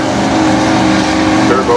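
A Chevrolet turbo V8 automatic-class drag race car roars loudly at a drag strip, its engine note steady under an announcer talking over the loudspeaker.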